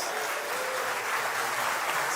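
A church congregation at a national youth congress claps in praise, a continuous, even patter of many hands heard at moderate level from slightly back in the hall.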